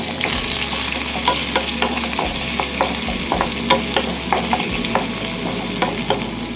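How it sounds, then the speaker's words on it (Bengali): Chopped onions frying with curry leaves in a pan for upma: a loud, steady sizzle broken by quick, regular scraping stirs throughout. No one speaks. "পেঁয়াজটা হালকা লাল হওয়া পর্যন্ত এটাকে এরকমভাবে ভাজতে হবে"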